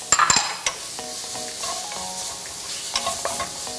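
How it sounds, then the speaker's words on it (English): Fresh minced garlic hits hot oil in a pan, sizzling steadily and close, with a few sharp utensil clinks at the start and light scraping stirs after. "we're gonna add in our garlic. And this is about 2 tablespoons of fresh minced garlic"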